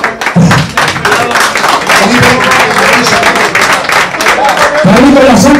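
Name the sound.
applause at a football awards ceremony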